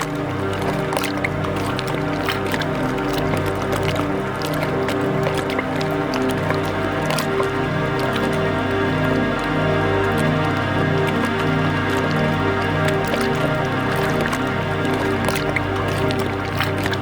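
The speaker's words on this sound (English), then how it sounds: "the tractor slowly yet comfortably makes its way through the thick mud of the swamp." Swamp tractor grinding through thick mud in the Everglades, a steady, loud droning engine with a rhythmic low chugging and splashy, squelching wet sounds running continuously throughout.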